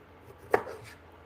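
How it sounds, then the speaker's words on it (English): Ginger root cut with a knife, a single crisp, close cutting tap against a quiet background. "So I've got ginger root. I'm just going to cut off an end. Just going to peel it a little bit here."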